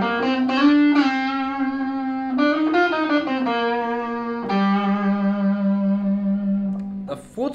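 Distorted electric guitar plays the third phrase of the solo from a song, sustained bending notes with effects, reverb and echo, loud and close with no talking.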